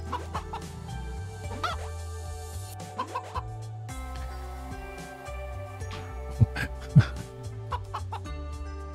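Chickens cluck in the video game A Space for the Unbound, a few short clucks and squawks standing out over looping background music, with louder bursts near the end.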